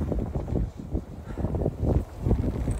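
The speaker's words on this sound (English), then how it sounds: "windy today. It is just blowing all the hay that we're putting out for the sheep" Gusty wind buffets the microphone in uneven bursts on a cold farm day, a rough, close rumble throughout.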